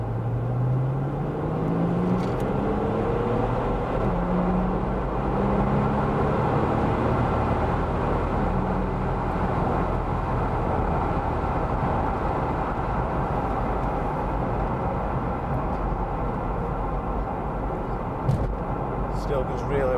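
An Audi A5 project car with a DPF fitted revs its engine, a fairly muted, steady drone with a rising pitch at first, while people talk over it throughout.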